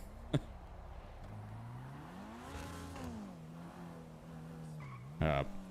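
Video game transform cars driving with engine tones rising and falling and tire skids, including a sharp skid burst near the end, all fairly continuous at moderate level.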